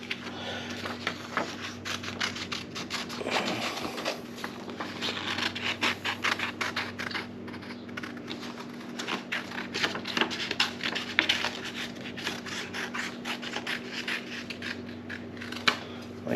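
Scissors snip steadily around a heat-press transfer design, giving a long run of close, dry cuts and scraping paper rustle with only brief pauses.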